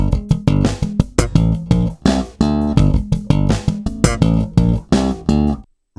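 Slap bass at full speed in a stomp groove: rapid, dense slapped and popped notes with sharp percussive attacks. It is loud and close, with no voice, and stops abruptly at the end.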